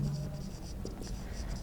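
Chalk or marker scratching briefly across a board during a Hindi-English lecture, short faint strokes heard close with quiet room tone.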